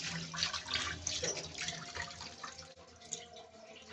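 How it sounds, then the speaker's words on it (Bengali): Boiled pasta is drained in a strainer under running water, giving a steady, close hiss of splashing and trickling water with small dripping spatters. "তো আমাদের পাস্তা সেদ্ধ করা হয়ে গেছে, ছেঁকা হয়ে গেছে।"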